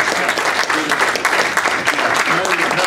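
An audience in a lecture hall applauds to welcome a speaker at a memorial lecture, with a dense, steady wash of clapping that lasts the whole moment, close and loud.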